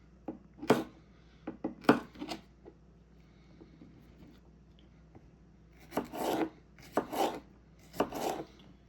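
A knife chops through strips of taco-base ingredients on a board in quick bursts: a few sharp strokes, a pause, then a steady run of rhythmic cuts, close and fairly quiet.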